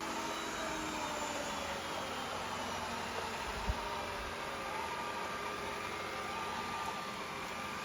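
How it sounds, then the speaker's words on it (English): A yeedi vac 2 pro robot vacuum running in standard suction mode gives a steady, quiet whirring hiss that holds even for the whole stretch, with one brief soft knock partway through. "Here's a little sound clip of the standard suction mode."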